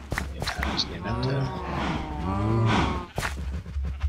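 Two long, low moos from Minecraft cows, one after another, with faint thumps and clicks around them.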